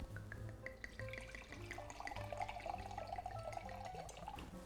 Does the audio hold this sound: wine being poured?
yes